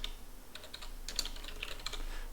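Quiet, close clicking of computer keys being typed in a brief irregular burst of taps, with no voices.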